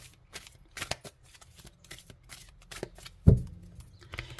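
A deck of oracle cards is shuffled by hand close up, with rapid papery riffles and flicks and one heavier thump partway through.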